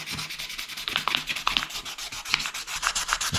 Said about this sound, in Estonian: siis ma kasutan sellist peenematerjalist liivapaberit, et saab selle maha lihvida